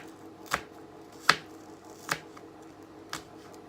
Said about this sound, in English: So this red onion was in the fridge, and I thought, actually, you know what? I'm going to chop it up